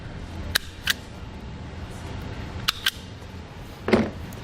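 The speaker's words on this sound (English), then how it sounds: "So I'm going to cut it in half. I'm going to strip the wire back." A brake signal wire for a Roadmaster Hy-Power diode wiring kit is snipped and stripped, giving a few sharp, quiet clicks and snaps close up against a faint background hiss, with one slightly longer scrape at the end.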